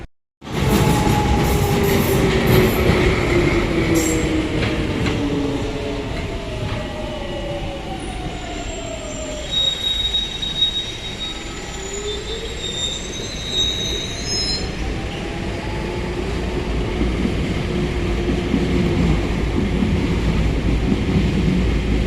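DLR light rail train at Canning Town station rolling through with loud wheel squeal and rumbling rail noise, pitched screeches rising and falling as it passes close by.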